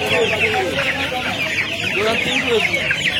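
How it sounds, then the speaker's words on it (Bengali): Chickens clucking continuously at a hen market, many birds close by in a dense overlapping chatter of clucks and squawks, with faint background bustle. "দেখুন এখানে 4 গাল মুরগি আছে, বড় বড় সাইজ মুরগি আছে।"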